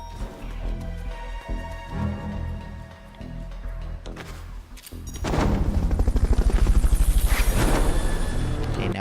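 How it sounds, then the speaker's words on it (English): Loud helicopter with a rapid rotor chop in Metal Gear Solid: Peace Walker, taking over after a stretch of dense rumbling game audio and music. "Fulton recovery subject confirmed onboard helicopter."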